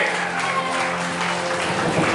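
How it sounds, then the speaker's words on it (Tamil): Audience applause for teachers at a school equipment giveaway in Trincomalee, with book bags and school shoes handed out; steady, fairly loud clapping fills the short stretch, with faint voices underneath. "ஆசிரியர்களுக்கு எங்கே ஒரு உற்சாகமான கரகோஷங்கள் எங்கே?"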